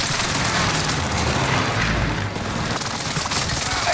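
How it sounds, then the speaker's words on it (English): Airstrike explosions in the Call of Duty video game, a loud continuous barrage of booming blasts and rumble filling the whole stretch, with no clear pauses. "Vector set for airstrike."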